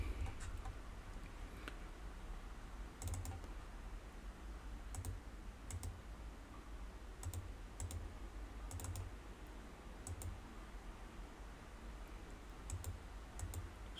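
An SSH command being typed on a computer keyboard in a terminal, sparse individual key clicks spaced a second or so apart over a faint steady hiss, nearby with no voices.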